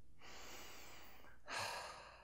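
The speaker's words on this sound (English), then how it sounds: "Deep breathing." Two slow, deep breaths close to the mic, a long airy inhale followed after a short pause by a louder, fuller exhale, with no talking.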